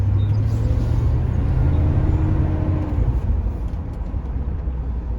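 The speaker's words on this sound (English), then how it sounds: "I'll show you real quick how this car pulls." A 1977 Mercedes-Benz 6.9 accelerating, a steady loud low engine rumble and road roar close by that eases slightly toward the end, with no voices.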